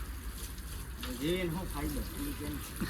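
Water sprays and gushes in a continuous hiss while a vehicle is washed, under a person's animated talking close by.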